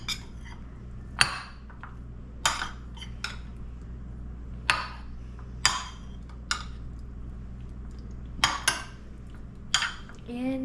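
Utensils clink and scrape against a pan while salmon dish ingredients are mixed, sharp metallic knocks coming every second or two between quieter stirring, close to the microphone.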